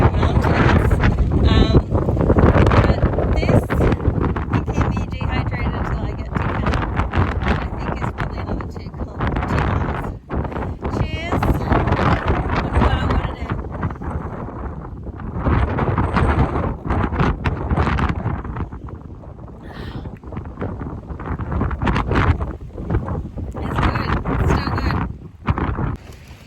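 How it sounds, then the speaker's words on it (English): Strong gusting wind batters the microphone on a mountain trail in the San Jacinto Mountains along the Pacific Crest Trail, a loud continuous roar with buffeting surges throughout, and a faint voice occasionally underneath. "Another day of getting your head bashed in by the wind."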